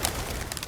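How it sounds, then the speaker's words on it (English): Pigeon-like cooing from a sound library mixed into city footage, a short soft coo over a dense, noisy background. "even those little bird sounds, downloaded from a sound library, mixed them back in."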